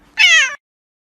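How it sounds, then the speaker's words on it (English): A cat gives a single clear, loud meow lasting about half a second, followed by silence. "If you're happy and you know it, say meow."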